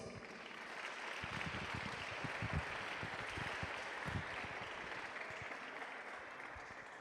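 Youth camp congregation applauding together in a church gathering, a sustained, fairly loud roar of many hands clapping that continues evenly throughout, with scattered sharper claps near the front.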